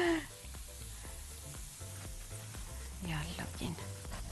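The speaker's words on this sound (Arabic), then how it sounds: "تقومي عامله الطشه دي سريعه كده وتقومي حطاها على الوش" Taqliya of dried coriander crackles and sizzles softly in hot oil, a quiet, continuous frying hiss under soft nearby speech.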